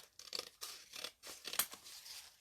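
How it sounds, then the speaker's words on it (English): Santa Claus scissors trim paper for a stamp folio in a series of close, crisp snipping cuts with short pauses between strokes, no voices. "just going to trim these down a little bit. Wearing down my Santa Claus scissors."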